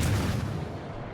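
Warship main guns fire HE shells in World of Warships Legends, a single heavy, booming blast that rumbles and fades over about a second.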